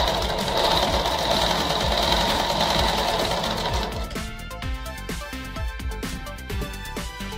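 A sewing machine runs steadily along a folded petticoat hem, its motor whirring loudly for about four seconds. Then it stops, leaving scattered clicks and handling taps.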